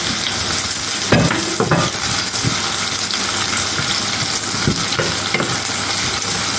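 Onions and curry leaves frying in hot oil in a pan, a steady loud sizzle with occasional stirring scrapes, continuous and close, no talk.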